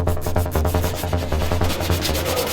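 Steady abrasive sanding as a VW bus body is rubbed down, a continuous close scratching with quick repeated strokes and no speech.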